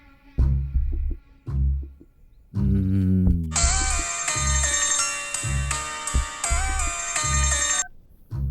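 A phone rings on an outgoing call in a dubbed South Indian romantic movie scene, a repeating electronic ringtone melody sounding loud and clear over a steady low rhythmic backing for several seconds.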